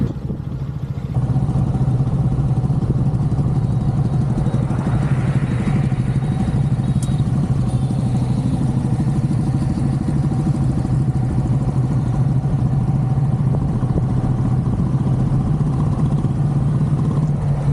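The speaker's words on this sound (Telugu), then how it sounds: "2014 మోడల్ బుల్లెట్ 500. సైలెన్సర్ మోడిఫికేషన్ చేసిండు, సౌండ్ వస్తుంది చూడు" A 2014 Royal Enfield Bullet 500 with a modified silencer runs close by, its engine thumping in a steady, loud, unbroken rhythm for the whole stretch after a quiet first second.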